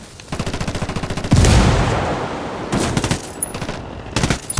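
Ghost Recon Wildlands combat: rapid automatic rifle bursts, then a heavy grenade blast around the midpoint, followed by more sustained gunfire bursts, loud and close.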